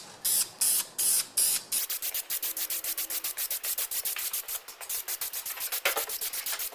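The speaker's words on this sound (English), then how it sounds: "I've got a can of Krylon dual primer and paint in one can" A can of Krylon dual primer and paint sprays a motorcycle radiator guard for a Honda NC700X in a quick series of short, close hissing bursts, some longer at first, then rapid and rhythmic.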